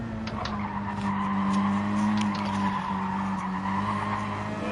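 Tyres squeal loudly as a race car skids through an off-camber section of track in a racing video game, a sustained screech over a steady engine drone.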